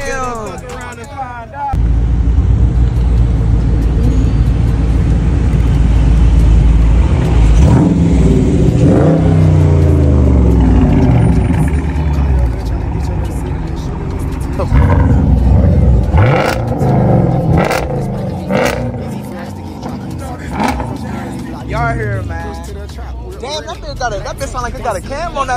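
A modified muscle car with an aftermarket cam, likely a Dodge SRT such as a Hellcat or Scat Pack, revs loudly and accelerates in traffic with a lopey rumble, while voices talk over it throughout.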